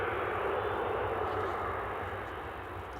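A Saudia Airlines Boeing 777 on approach to land at Newcastle International Airport, heard as a steady, fairly loud engine roar that holds throughout and fades slightly toward the end.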